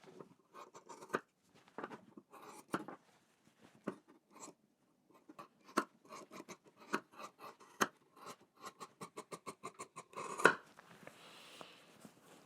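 Scissors snip fabric corners on a pleated pants waistband, a string of crisp close cuts that start sparse and quicken into a rapid run of snips, with faint handling noise between them.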